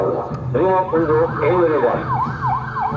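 Ambulance siren in a police cadet training simulation, wailing up and down in repeated sweeps under a man's loud speech, with a crackle like it is coming through a radio or PA.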